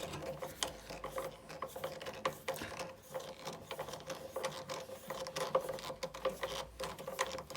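Ratcheting clicks from tightening the heater element bolt on a Bosch washing machine, a quiet, steady run of small mechanical clicks and taps close by with no talking.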